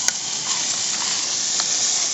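Food sizzling and being stirred in a pan at a remote lakeside camp during a kayak trip, a steady close hiss with faint scraping of the stirring utensil throughout.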